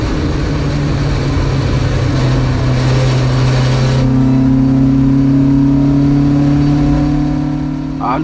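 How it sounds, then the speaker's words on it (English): Classic Marcos race car at Snetterton circuit, its engine running steadily at a sustained drone with a brief rise in pitch midway, continuous and fairly loud throughout. "As you can hear, the car's running really well."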